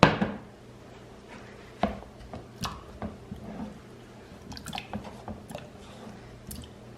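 A potato being peeled and cut up by hand in a home kitchen gives sparse, irregular knife clicks and soft chops, quiet and close, with no talking.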